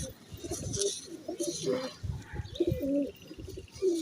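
Pigeons of a rare black-faced breed coo in soft, repeated low murmurs close by, with brief bird chirps scattered throughout and no clear talk over them.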